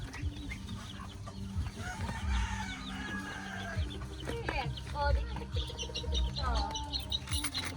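Chickens clucking and a rooster crowing close by in a Filipino rural yard while vegetables are gathered, with scattered calls over rustling and people talking in the background.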